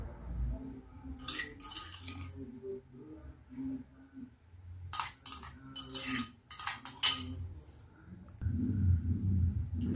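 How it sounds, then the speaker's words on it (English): Threaded raw carrot, beetroot and pumpkin salad tossed in a bowl, with soft close rustling and scattered light clinks of utensils against the dish, steady and moderate in level with short pauses. "Make sure to mix very well."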